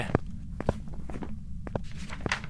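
Ghost footsteps in the horror video game Phasmophobia, five distinct thudding steps at an uneven pace over a low droning background hum, fairly close and moderately loud, with no talk.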